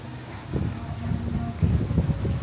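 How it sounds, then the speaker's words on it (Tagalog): Strong wind at a neighborhood music festival in Modesto buffets the microphone in low, rough gusts that swell toward the end, with faint muffled voices beneath. "Sobrang lakas ng hangin"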